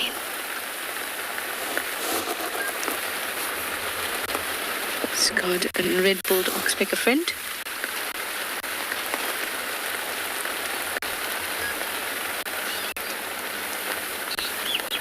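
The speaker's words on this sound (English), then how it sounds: "Oh, listen to that rain." Steady rain falls in the African bush on a sunset safari, a dense, constant patter on leaves and ground throughout, with someone talking briefly in the middle.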